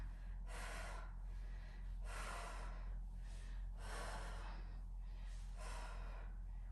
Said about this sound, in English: And I'm trying to remember my breathing.